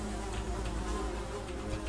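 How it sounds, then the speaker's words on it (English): A steady insect-like buzz of bees drones continuously in the horror game Funeral, a dense, low, even hum with no talking over it. "I hear the bees coming from outside."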